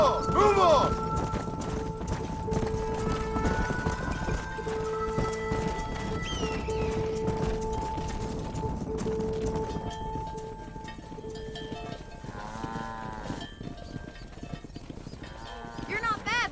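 Hooves of a wild horse herd gallop in Red Dead Redemption, a steady clip-clop rumble beneath game music, with occasional whinnies and a voice speaking over the scene.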